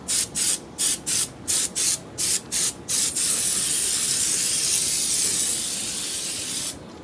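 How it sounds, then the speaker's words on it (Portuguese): A homemade spray gun built from a PET bottle sprays automotive paint, starting in eight short rhythmic hissing bursts before settling into one long, steady, loud spray that cuts off near the end, with no talking. "se você quiser aprender a pintar com a pistolinha caseira e tinta automotiva"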